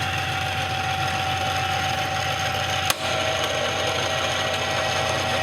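A Hardinge HLVH lathe runs its feeds with a steady mechanical whir and faint gear ticking, close and continuous, broken by one sharp click midway.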